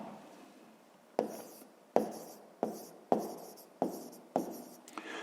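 Pen or pencil writing out a sixth-grade math solution on paper, six or seven quick scratchy strokes each starting with a sharp tap and trailing off, close and quiet, without speech.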